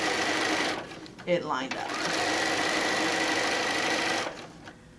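A sewing machine stitches a quilted fabric pouch made from a panel, a steady, close mechanical whir running for about three seconds between short pauses, with someone talking briefly over it.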